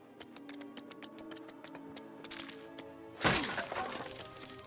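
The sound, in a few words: glass shattering in a video game, Lego Batman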